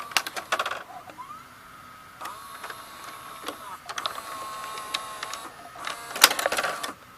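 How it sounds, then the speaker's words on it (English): The cam gear mechanism of an Orion VR0120 VCR runs with no cassette inserted: whirring motor runs and mechanical clicks come in several close, uneven bursts, with brief quiet gaps between them. "Let's see if I can show you the cam gear action without putting a cassette in"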